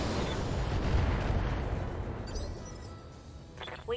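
Artillery barrage in the BattleTech video game, a continuous dense rumble of distant booms and shell impacts rolling for several seconds, easing slightly toward the end with a sharper burst near the close.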